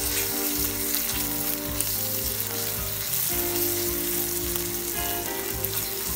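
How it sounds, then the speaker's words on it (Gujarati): Onions sauté in a pan over medium heat, a dense, steady sizzle and crackle with occasional stirring scrapes, close and continuous with no talking. "ડુંગળીને બરાબર સાતળી દઈશું."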